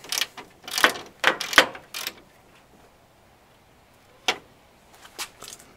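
Quick ratcheting clicks from an Easy Red bit ratchet turning a screw with a cut-down Phillips bit, working behind a Toyota grille. Close, dry bursts of clicking come in clusters with short pauses and no voice.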